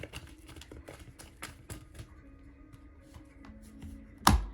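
Tarot deck being shuffled by hand, a run of quick papery flicks and taps up close and fairly quiet, ending with a sharper louder rustle.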